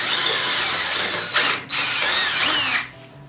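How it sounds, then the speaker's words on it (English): A power drill bores holes in a steel truck bumper being fabricated, with a loud, steady high whine that briefly dips and restarts twice, close up and with no talk. "after drilling into the sides and tapping all these holes"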